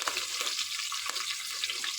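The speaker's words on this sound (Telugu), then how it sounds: "దీంట్లో కరివేపాకు వేసుకుందాం, పచ్చిమిరపకాయలు వేసుకుందాం," Curry leaves and green chillies crackle in hot oil with ginger-garlic paste for tomato rice, a soft steady hiss with a few light stirring scrapes, fairly quiet and brief.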